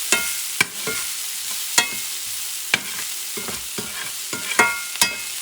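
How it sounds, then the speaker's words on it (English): Chopped garlic, about three or four cloves, frying in a pan while being stirred, with a continuous sizzle broken by repeated scraping strokes of the utensil at an uneven rhythm. "About 3 or 4 teeth of garlic, chopped. Mix it up for a few seconds."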